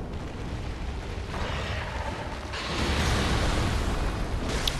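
Loran Darkbeast's boom explosion attack in Bloodborne, a sustained roaring, rumbling blast that swells louder midway and holds for several seconds.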